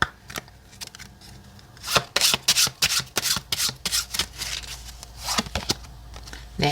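Oracle cards being shuffled during a weekly tarot reading, a run of crisp riffling and flicking bursts in quick succession, close and fairly loud, with a soft lull before them.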